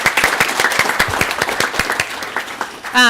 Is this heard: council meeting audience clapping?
yes